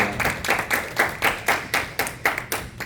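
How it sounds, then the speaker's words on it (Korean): Church congregation clapping in rhythm, about eleven even claps in under three seconds, moderately loud with a slight room echo and no talking over it. "감사합니다, 본을 보여주셔서 감사합니다 하는 마음으로 박수 한번 보내드리겠습니다"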